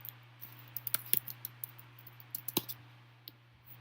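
Light, sparse clicks of typing on a computer keyboard, scattered unevenly over a few seconds against a steady low electrical hum, close and fairly quiet with no voices.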